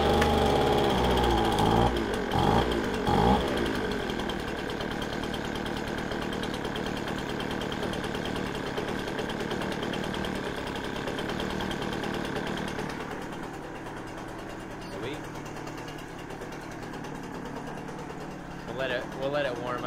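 A Poulan Pro gas leaf blower with a stalling fault runs its small two-stroke engine in a loud, rough, steady drone, then drops lower and quieter toward the end as it falters.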